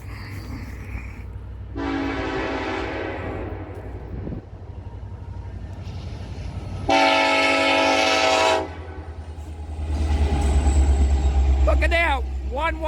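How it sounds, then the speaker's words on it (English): A Norfolk Southern train passes near the 99.7 mile marker, sounding two long, loud horn blasts over a steady rumble of rolling cars, with speech in the background. "Got a train coming."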